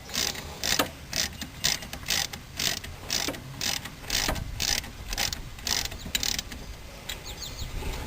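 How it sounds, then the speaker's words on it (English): A torque wrench tightens brake caliper bolts on a 2000 Honda Accord, giving a rapid, steady series of close ratcheting clicks that runs continuously and alone. "Once they're snugged, I'm going to use the torque wrench to get them to the right torque."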